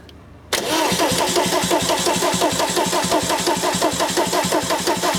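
A VW camper van with a swapped-in TDI diesel engine cranks briefly and then catches, settling into a loud, steady, rhythmic diesel clatter at close range with no talking.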